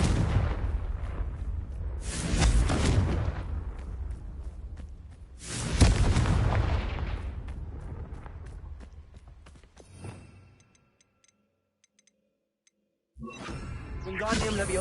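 Confringo blasting spells in the Hogwarts Legacy video game: two loud, rumbling explosions with long, roaring decays, followed by near silence and then another burst of blast noise at the end.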